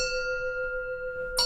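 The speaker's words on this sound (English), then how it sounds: "Hearing the sound of the bell, all thinking is cut off." A Zen service bell rings during a live meditation service, its steady humming tone sustaining alone and slowly fading before a fresh bright strike near the end.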